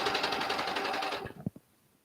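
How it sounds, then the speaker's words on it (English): A serger sewing machine runs steadily while stitching seams on baby leggings, a close, continuous mechanical whir that stops after about a second, followed by a couple of soft handling knocks. "So usually I leave them on and I just keep serging my leggings"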